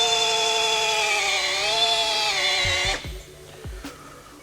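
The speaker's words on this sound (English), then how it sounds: "I've just done the first stage of compounding. So with a rotary polisher and a hard compound." A rotary polisher runs with a hard compound on the paint of a 23-year-old Land Cruiser, giving a loud steady motor whine that wavers in pitch. It cuts off near the end, leaving a few soft knocks.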